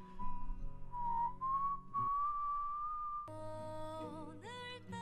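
A long whistled tone that drifts slowly upward in pitch, then a run of wavering whistled notes over a steady musical backing.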